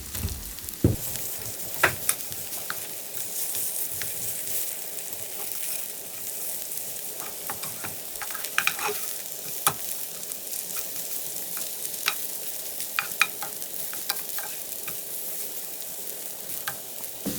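Korean jeon pancakes fry in oil over high heat, giving a steady close sizzle with scattered sharp pops and crackles that run without a break and with no voices.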